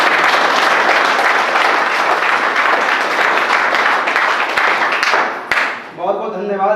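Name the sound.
audience applause for Pramod Mahto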